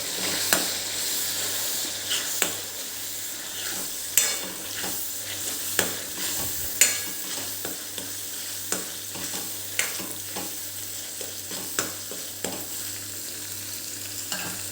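Masala and cashew paste being stirred in a pan for paneer kadai: a soft, steady sizzle punctuated by regular spoon knocks against the pan, roughly every second.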